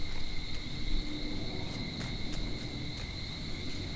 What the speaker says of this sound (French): Ça va peut-être pas être agréable pour vous d'entendre les grenouilles.